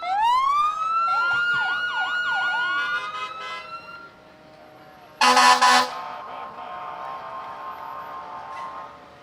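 Monson fire engine number 2 in a Summerfest parade, its siren wailing and yelping loudly for about four seconds, then a short, blaring air-horn blast, with crowd ambience around it.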